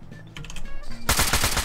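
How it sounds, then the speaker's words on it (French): Rapid automatic gunfire in a Garry's Mod DarkRP police-station firefight, a loud dense burst of cracking shots that erupts suddenly after quieter game sounds and keeps rattling to the end. "il y a des coups de feu, des coups de feu"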